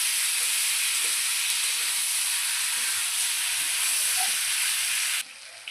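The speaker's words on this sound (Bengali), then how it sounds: "দেখুন বন্ধুরা, সবজিগুলো আমার সুন্দর ভাজা হয়ে গেছে" Mixed vegetables fry in oil for a moong dal dish, a close, steady sizzling hiss that holds evenly and then cuts off abruptly near the end.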